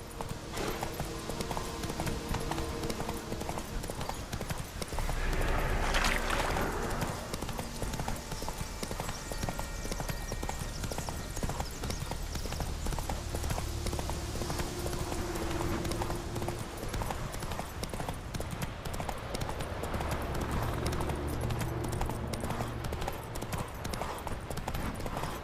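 A horse in the video game Witcher 3 gallops with rapid, steady clip-clop hoofbeats that run the whole way through, joined by a brief whoosh and faint game sounds in the background.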